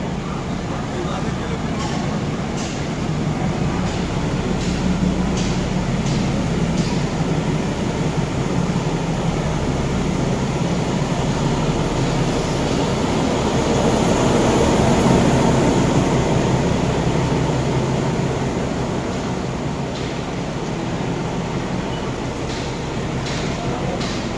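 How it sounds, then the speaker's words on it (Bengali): A train pulls into a station near Kolkata, a continuous heavy rumble of wheels and carriages at close range, swelling slightly midway, with muffled crowd voices mixed in. "ফাইনালে কিন্তু আমাদের ট্রেনটি ঢুকে গেছে দেখতেই পাচ্ছেন"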